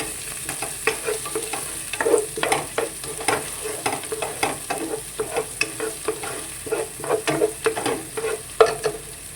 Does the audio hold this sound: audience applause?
no